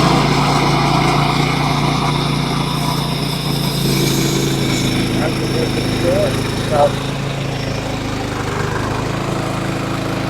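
A beam mill with a carbide chain saws through a red and white oak log, its engine droning steadily and loudly as the cut continues without a break.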